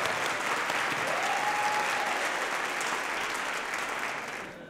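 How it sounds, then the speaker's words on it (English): A convocation audience gives a round of applause for the board president and a trustee, a broad, even wash of clapping heard at a distance that holds steady and then fades out toward the end. "Give a round of applause for Board President John Knight and Trustee Pam Haynes"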